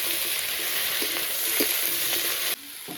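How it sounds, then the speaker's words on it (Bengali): Malabar spinach (pui shak) frying in a pan with salt and turmeric, a steady broadband sizzle with a few soft stirring knocks, dropping slightly quieter near the end; no one speaks. "এবার পুঁই শাকটা ভাজবো।"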